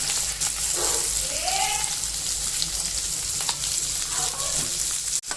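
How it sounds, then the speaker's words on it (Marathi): Constant sizzle of onion frying in oil close by, with a few faint background voices and a sharp knock near the end. "आता याच्यामध्ये कांदा टाकते"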